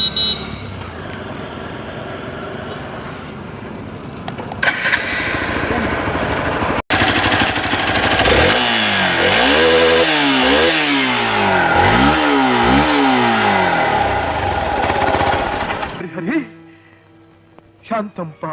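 A Hero Xpulse 200 4V motorcycle engine runs close by, settling into a rumbling idle and then revving repeatedly in sweeping rises and falls before cutting off, while voices talk over it.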